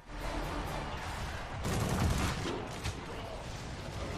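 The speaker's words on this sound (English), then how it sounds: "Yeah, I'm shooting at it right now." Rapid gunfire in the Monday Night Combat video game, a dense continuous rattle of shots with a heavier burst midway, under faint game noise and voices.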